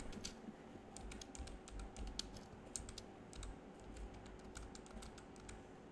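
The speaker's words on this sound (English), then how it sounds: "let's type in the heading we want" Steady typing on a computer keyboard while entering a heading in a web admin page, with quick, even key clicks running throughout, fairly close and quiet against a low background hum, with no talking.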